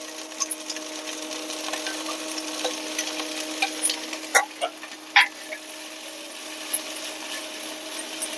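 Green chilies, ginger and coriander powder fry in oil for a spicy tomato chutney. A soft, even sizzle sits under a low hum, with occasional sharp scrapes and taps of a stirring utensil.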